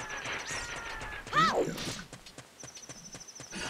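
Epona, the horse in Zelda: Ocarina of Time, gives a short whinny amid game sound effects and clip-clop hoof steps, fairly quiet, with a faint voice in the background.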